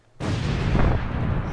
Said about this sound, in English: Explosion sound effect that I'll edit in.